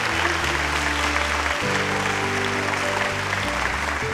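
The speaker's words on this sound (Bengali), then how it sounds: "খুব এবার জোরদার তালিয়া হয়ে যায় উনকে লিয়ে" A studio audience applauds musicians on a TV show, a steady wash of clapping heard under sustained low musical tones from the band, fairly loud and continuous throughout.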